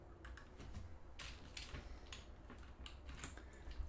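Soft, quick taps on a computer keyboard come in short irregular bursts as a bug title is typed into bug-tracking software. The keystrokes are close and faint over a quiet background, with no speech.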